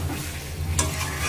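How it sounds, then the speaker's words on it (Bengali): Chicken pieces stir-fried in plenty of oil give a steady close sizzle, with a brighter scrape or clatter of stirring partway through, no voices. "চিকেন কষা করছি"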